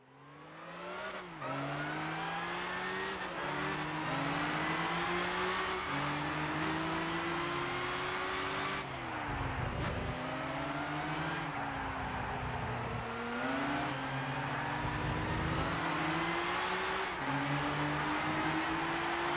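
Race cars in Gran Turismo 6 at an E3 2013 GT Academy tournament roar continuously, their engine pitch climbing and dropping sharply through repeated gear shifts and corners, loud and close with no talk.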